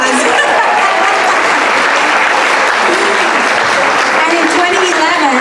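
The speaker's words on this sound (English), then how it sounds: "That's a big round of applause." A loud, dense round of audience applause at a women's political event, sustained and even throughout, with voices and cheers mixed into the clapping.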